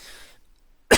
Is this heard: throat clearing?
yes